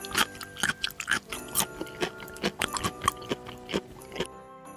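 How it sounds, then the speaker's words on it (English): A crunchy candy cane is chewed up close, with a rapid series of sharp crunching bites and grinding that fill the clip before stopping near the end. "Crunchy, chewy, and soft. This was a very fun candy cane to eat."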